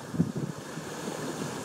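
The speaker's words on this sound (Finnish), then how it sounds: "Tyyni valtameri," Wind and ocean waves on the Pacific Ocean, a steady broadband wash with a soft low rumble of surf that swells briefly near the start, no voices.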